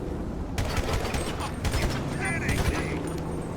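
AR rifle gunfire in a FiveM GTA roleplay server, a rapid string of sharp shots and mechanical clicks, loud and close, with a voice speaking faintly under them.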